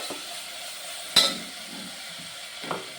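Onions frying in a pan for a jackfruit fry, with a soft low sizzle and a couple of sharp spoon clinks against the pan, one loud and one lighter.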